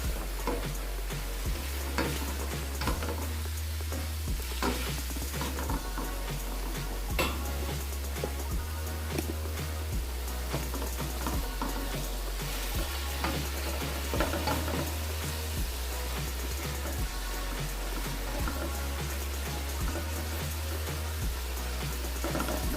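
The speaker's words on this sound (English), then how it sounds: "After adding the saltfish freestyle, you want to stir everything together." Saltfish and vegetables for an ackee and saltfish dish fry in a pan while being stirred, making a loud, steady sizzle with scraping stir strokes throughout and no voices.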